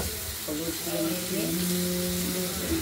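Turmeric spice paste mixed with water is added to potatoes and tomato frying in a pan for a rohu fish curry, giving a steady close sizzle with some stirring and a voice speaking over it.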